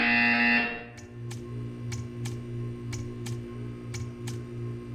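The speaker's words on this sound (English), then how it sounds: "You will hear a buzzer." Buzzer in the video game Portal 2: a loud, steady electronic drone for about a second, then a low continuous hum punctuated by a regular series of sharp, evenly spaced ticks.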